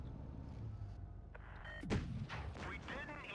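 A single heavy cannon blast from a Caernarvon Action X tank in World of Tanks Blitz, sharp and booming, cutting through steady battle ambience with faint background noise around it.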